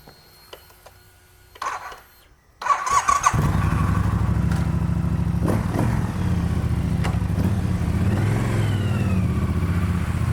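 A Triumph Bobber motorcycle fires up after a few quiet mechanical clicks. The engine catches with a sharp start, then settles into a loud, steady, throbbing idle with light revs, close by.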